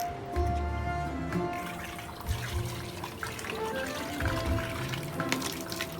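Running, splashing water fills the scene continuously with some trickling detail and occasional low thumps, while children named Porter and Cassie play nearby.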